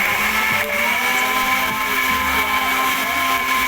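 Electric blender grinding a mix of ground coriander, cumin and other spices into a paste for mutton curry, a steady loud motor whine with a brief dip near the start, close and alone.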